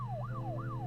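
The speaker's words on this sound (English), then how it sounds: "I hear sirens" Sirens wail in the video game Her Story, two rising-and-falling swoops heard over a steady low hum, moderately loud and continuous with no voices.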